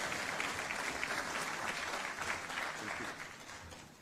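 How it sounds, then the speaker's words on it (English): Sustained applause from a business forum audience in Nairobi welcoming the EU trade commissioner, steady dense clapping throughout, fairly loud and even with no break. "A round of applause for him, please"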